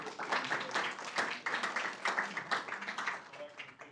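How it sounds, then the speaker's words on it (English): Applause at a Merriam city council meeting for anniversary elected officials, a modest crowd clapping steadily and fairly close for a few seconds without a break. "Give one more round of applause for all of our anniversary"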